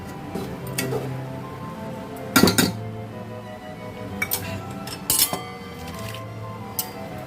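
A spoon stirs rice flour into water in a pot over a low flame, giving intermittent metallic clinks and scrapes against the pot, close up, with a few sharper knocks standing out.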